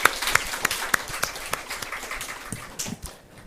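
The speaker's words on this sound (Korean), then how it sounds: "박수로 환영하겠습니다." A church congregation applauding in welcome at a church-wide retreat, a spread of clapping hands with distinct sharp claps standing out over a softer background patter, fading toward the end.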